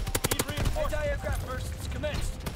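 A DLC weapon fires a rapid automatic burst in the Call of Duty WW2 video game, with evenly spaced, punchy close shots at the start, then a player's excited voice continues over the game noise.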